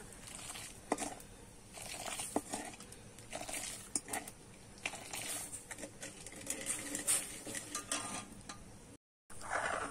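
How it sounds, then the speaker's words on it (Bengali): Milk with sugar and saffron for mango kulfi is stirred and boiled in a pot, giving a steady, soft scraping and bubbling patter with irregular spoon knocks and brief clinks throughout, ending after a short silent gap. "দুধটা কিন্তু আবারও ভালো করে সবকিছু মিশিয়ে ফুটিয়ে নেব।"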